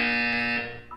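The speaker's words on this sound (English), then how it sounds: "You will hear a buzzer." A buzzer in the video game Portal 2 sounds as one loud, steady electronic tone that holds for about half a second, then fades with a brief blip at the end.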